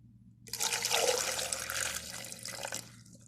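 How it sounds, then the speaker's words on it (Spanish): Water pours into a kitchen blender with chopped tomato and onion, a steady close splashing gush lasting a few seconds before tapering off, with no talking. "Así es de que vamos a ponerle agua."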